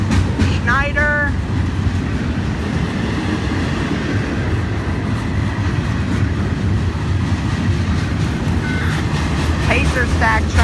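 A Florida East Coast freight train, No. 101 bound for Miami, rumbles past at Stuart in a loud, continuous roar of wheels and cars, with short horn-like tones near the start and end.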